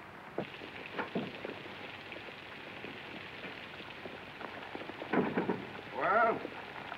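Steady rain pours with low rumbles of thunder, a continuous wash of noise broken by a couple of louder swells near the end.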